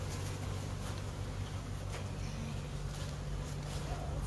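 Honey bees swarm around an open hive, giving a steady, close, continuous buzz with a faint wind-like hiss beneath it.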